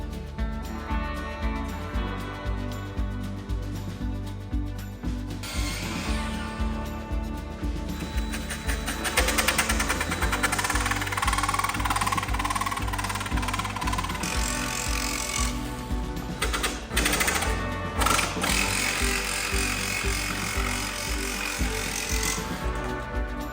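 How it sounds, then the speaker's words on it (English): Wooden pine trim for a chicken coop door is cut with a power tool, a sustained loud whine and buzz running steadily throughout, rising in intensity partway through with rhythmic ratcheting texture. "So let's get this trim cut."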